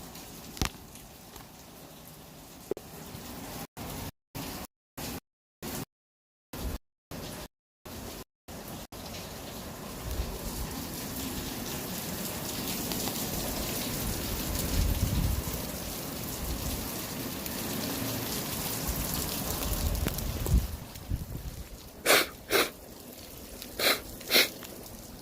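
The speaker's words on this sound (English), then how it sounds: "when you think about it, it's raining like a mug" Heavy rain pours down in a steady, dense hiss. The sound breaks up in a burst of gaps early on, and a few sharp cracks near the end stand out above it.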